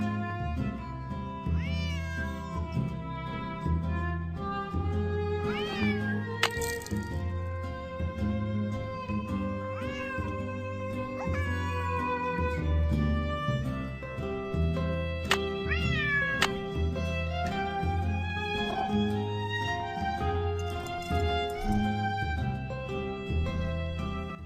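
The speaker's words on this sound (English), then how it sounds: "Otherwise, he'll just keep meowing." A cat in the Nancy Drew video game Secret of the Old Clock meows repeatedly and insistently, clear and close, with a steady music-like background underneath and no talking.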